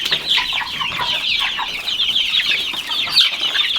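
A flock of young chickens, meat bird chicks alongside pullets, clucks and peeps in a busy, continuous chatter close by on a homestead, with no voices.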